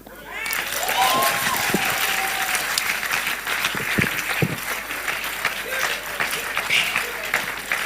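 A political rally crowd claps steadily through a governorship election event, dense applause rising quickly and holding at a strong level with scattered cheers and voices mixed in.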